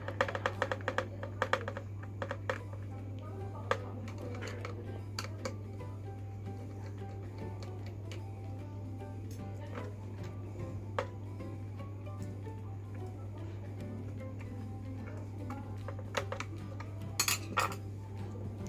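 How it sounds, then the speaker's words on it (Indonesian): Small metal screws being turned out of the circuit board of a JPJ 668 Bluetooth speaker, a run of light ticking and clicking taps over a steady low hum, close and fairly quiet. "kita akan buka di sini ada dua baut di papan PCB ini"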